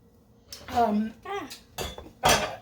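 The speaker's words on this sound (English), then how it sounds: "I'm going to put some extra virgin olive oil in the cast iron pan." A cast iron pan gets handled on a stovetop as olive oil goes in, giving a few clanking metal knocks and scrapes in separate bursts, with a voice speaking in between.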